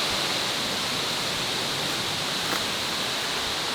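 A waterfall in the Bali jungle, heard from the top of the falls, gives a loud, steady rush of water that never lets up.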